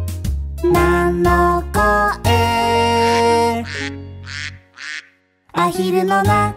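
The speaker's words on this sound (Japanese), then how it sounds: "アヒルの鳴き声が聞こえる。" A duck quacks repeatedly in loud, nasal bursts within a children's song, some rapid strings, with a brief pause before more quacking.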